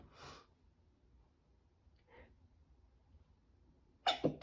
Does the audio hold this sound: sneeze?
yes